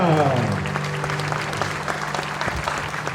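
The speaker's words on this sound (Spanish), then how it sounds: "¡Fuerte el aplauso para nuestra patrona!" A crowd in the town of Loreto, Corrientes, applauds the arrival of the patron saint at a local celebration, a continuous wash of clapping with a voice and some music-like tones underneath at the start.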